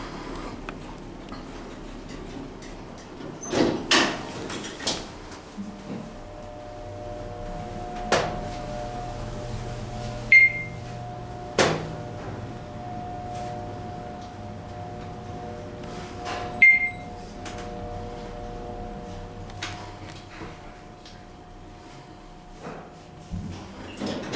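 A Schindler 3300 MRL traction elevator door at a TownePlace Suites hotel slides slowly shut with soft rumbling, intermittent knocks and clunks, and a couple of faint chimes, over a low steady hum.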